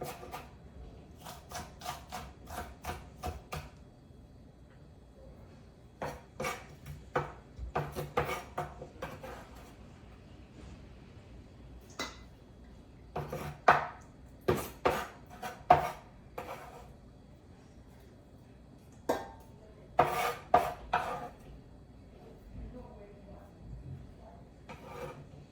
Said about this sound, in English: Make sure everything is chopped finely.